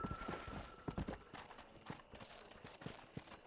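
Hooves clop on hard ground in an uneven patter, as if several horses are moving about a corral in the video game Red Dead Redemption, fairly quiet with a faint background hiss.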